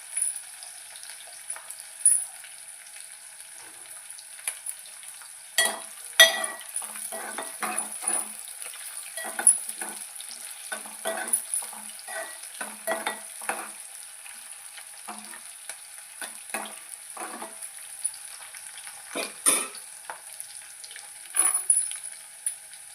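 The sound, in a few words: frying and stirring chopped green chillies in a pan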